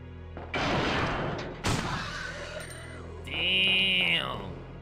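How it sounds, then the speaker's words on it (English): Magnum gunshots in Resident Evil 2, a couple of sharp muffled blasts in quick succession followed by a ringing metallic tail, close and loud with no talk over them. "It sounds like this Magnum has a silencer on it."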